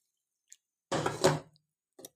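Water poured into a cup of sugar to make syrup: one short splashing pour of about half a second, with tiny drips before and after, quiet and alone with no talk.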